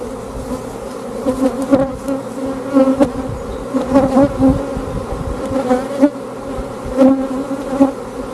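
A swarm of bees hums loudly and continuously close by while being gathered into a hive on a silvopasture farm, the drone pulsing as individual bees pass near.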